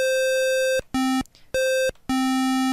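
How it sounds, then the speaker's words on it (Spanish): An 8-bit NES square wave synth tone from the Famitracker tracker, four sustained buzzy notes alternating between a higher and a lower pitch, separated by brief gaps, loud and close. "Lo que podemos hacer es modificar un poco el periodo y tendremos una onda cuadrada."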